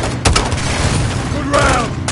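A grenade launcher round bursts in Call of Duty Modern Warfare: a sharp boom early on, then rumbling combat noise with a second swelling blast, loud and close, mixed with game dialogue.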